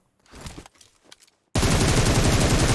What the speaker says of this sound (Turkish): Evet sağ tarafta çatışma var.